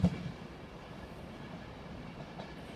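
A Virgin Trains East Coast train arrives at a platform at Doncaster station, a steady low rumble of rolling wheels that stays even and moderately loud throughout, with no voices.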